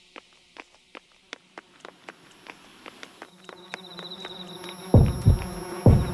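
A bee buzzes in the video game Yomawari 3, its drone joining a series of soft game footsteps and growing louder and closer, with low thuds near the end.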